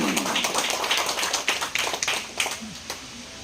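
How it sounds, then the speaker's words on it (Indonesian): Applause from a local community gathering welcoming a regional council member, a short burst of many hands clapping close by, steady and lively before tapering off. "Berikan aplaus yang meriah"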